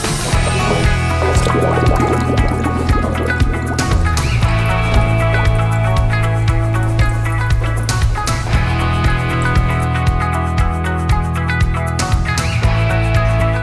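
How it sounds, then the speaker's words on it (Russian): Splashing and bubbling as a Vikhr DN-1100N drainage pump with a float switch is lowered into water, continuous close liquid churning with occasional knocks, loud and without talk. "Опустим насос в воду."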